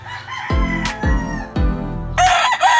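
A young rooster crows several times in short, slightly rough bursts, with other chicken sounds nearby. The calls are moderately loud and close.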